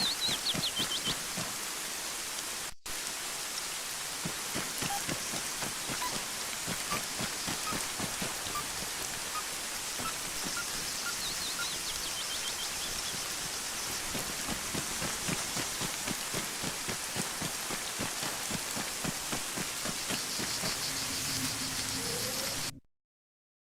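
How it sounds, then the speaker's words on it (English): Steady rain falls in the Arma 3 Laws of War video game, a dense even hiss of drops lasting over twenty seconds with faint bird calls in the background before cutting off abruptly. "At least I can get out of the fucking rain."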